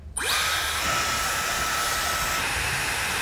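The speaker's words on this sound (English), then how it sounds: "So then now that just becomes a blow dryer." A blow dryer from a beauty gadget switches on and runs with a loud, steady, close whooshing roar that continues unbroken to the end, with no talking.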